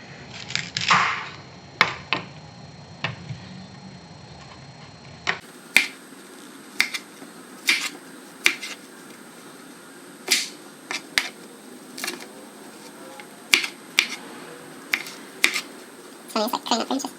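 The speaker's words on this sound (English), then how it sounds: "So we're gonna cut up the broccoli first" A knife chops broccoli on a cutting board in a home kitchen, a series of sharp, crisp clicks at an uneven steady pace, close and fairly loud against a quiet room background.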